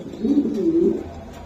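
Pigeons, including Birmingham Rollers, coo at a bird market: a steady, close run of soft, throaty cooing without talk.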